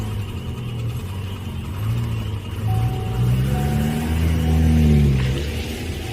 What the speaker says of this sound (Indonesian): aku langsung menancap gas, pergi dari tempat itu.